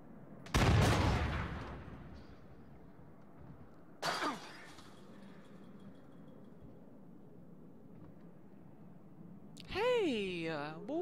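A single loud gunshot from the Until Dawn video game on PlayStation 4 cracks out near the start, followed by a smaller impact and a later voice.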